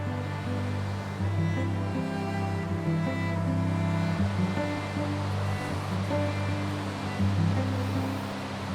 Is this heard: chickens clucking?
no